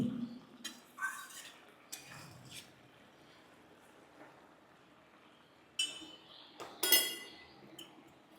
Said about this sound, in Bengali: গরম মশলাটা দিয়ে আমি একটু খুন্তি দিয়ে নেড়ে দেবো।